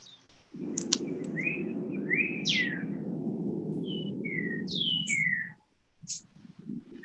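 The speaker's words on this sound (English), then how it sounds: "Pretty birds." Several songbirds chirp and whistle in short bright phrases, one after another, clearly audible over a steady low rumble of background noise that drops out briefly near the end.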